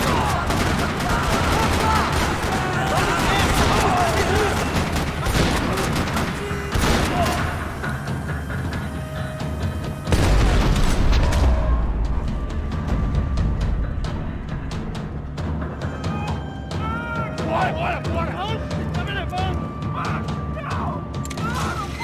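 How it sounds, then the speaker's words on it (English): Video-game gunfire rattles through a parking lot in Max Payne 3, with dense bursts of shots and crashes, a heavy impact midway, then sparser shooting and mechanical clatter under music and effects. "Another parking lot rattling with gunfire."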